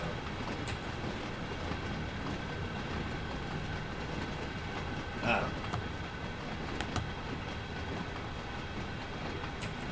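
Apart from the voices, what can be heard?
train running on rails in video game Train Sim World 2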